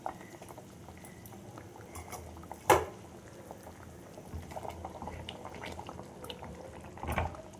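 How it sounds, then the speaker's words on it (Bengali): Tilapia fish curry broth with mustard and green chilies simmering in a pot, a faint continuous bubbling hiss with a sharp utensil clink early on and soft clatter later. "ঝোলটা ফুটছে।"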